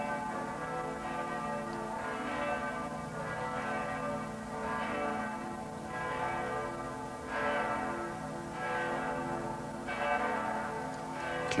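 Church bells toll before a funeral service, a slow, steady ringing that swells and recedes in regular waves with a sustained hum between strikes, heard alone at moderate distance.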